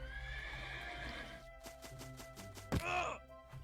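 A horse in the Minecraft video game clops in a quick series of hoof clicks and then lets out a loud, close neigh near the end.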